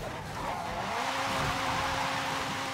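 A McLaren race car lapping Sebring International Raceway in Forza Horizon 5, its engine note rising in a steady whine with tire squeal and road noise, loud and close throughout.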